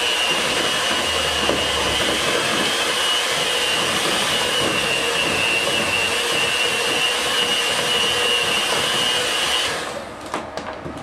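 Cream cheese frosting being beaten with vanilla by an electric mixer, a loud steady whir running nearly unbroken before cutting off near the end.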